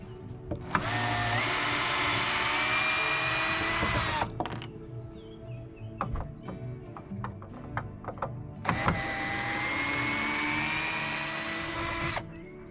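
A power driver running in reverse backs out large screws in two long, close whirring bursts, separated by a quieter stretch of clicks and handling noises.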